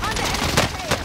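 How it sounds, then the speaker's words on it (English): Call of Duty Warzone gunfire on Rebirth Island, a FARA 83 rifle punching through cover in two or three sharp bursts amid busy game noise and voices from players. "See me shoot through that."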